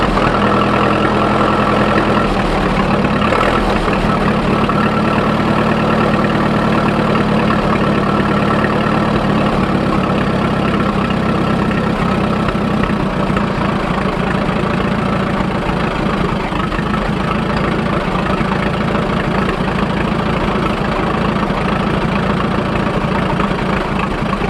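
A Fordson N crawler tractor engine idles steadily while warming up, a continuous low, even running note held loud and close for the whole stretch with no talk.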